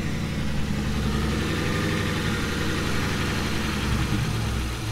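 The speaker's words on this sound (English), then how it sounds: "A running engine with no battery." A car engine runs steadily without a battery, giving a continuous low idling rumble with faint vibration, close and loud throughout and with no speech over it.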